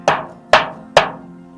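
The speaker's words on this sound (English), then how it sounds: "So I got a rubber mallet." A rubber mallet strikes a screwdriver three times at an even pace, each tap close and sharp with a short ringing decay, while a gate is being built.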